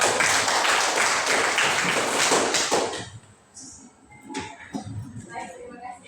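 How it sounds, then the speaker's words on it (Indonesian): Hands clap together in a classroom as students applaud, a dense burst of clapping lasting about three seconds before it thins out to scattered taps and shuffling. "Berikan tepuk tangan."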